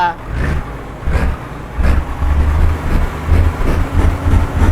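A Mercedes Axor truck engine in Euro Truck Simulator 2 starts and settles into a loud, low diesel rumble with pulsing revs, while a voice talks over it at times.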